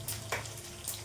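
Cinnamon bark sizzles in hot oil in a kadai while a chicken biryani is being cooked. The sizzle is faint and comes in short crackling bursts, with no voices.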